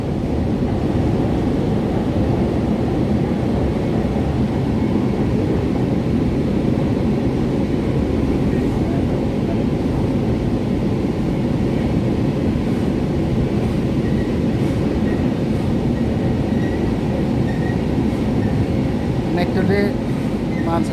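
A Kolkata metro train rumbles steadily along a curved stretch of line, a loud, continuous roar with a constant low drone and faint squeals near the end.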